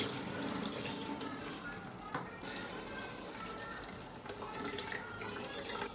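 Rice and lentils are rubbed and rinsed in water in a kitchen. Close, continuous running and splashing water shifts in level throughout, with no talking.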